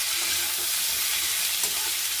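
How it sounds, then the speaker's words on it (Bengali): Potatoes and cauliflower frying together in a pan with turmeric until browned, a close, even sizzle of hot oil that carries on without a break. "এবার দেখুন লাল লাল করে আলু আর ফুলকপি আমার ভাজা হয়ে গেছে।"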